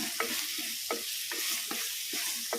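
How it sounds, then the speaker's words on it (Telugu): Ridge gourd pieces stirred in hot oil in a pan: rhythmic scraping strokes about every half second over a steady frying sizzle, close and moderately loud, no voices. "నేతి బీరకాయలు వేసేసి ఇవి కూడా మంచిగా ఇట్లా కలిపేసుకోవాలి"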